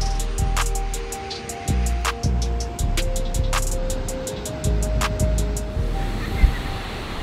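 Steady rushing water at the New Croton Dam, a broad continuous roar of spilling and surging flow with wind buffeting the microphone and intermittent sharp ticks, faint bits of voice underneath.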